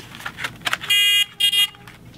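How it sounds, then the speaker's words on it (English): A steady electronic buzzer tone sounds for about a third of a second, stops, then buzzes again briefly after a short faint clicky rustle. "You slide it and the buzzer comes on."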